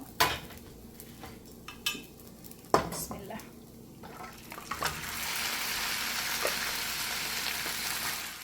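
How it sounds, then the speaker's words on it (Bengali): Rice fries in a pan with salt, first a few metal utensil clinks and scrapes, then a rising, steady whooshing sizzle that holds at moderate level through the second half. "চাল ভাজা হয়ে গিয়েছে শন শন শব্দ করছে"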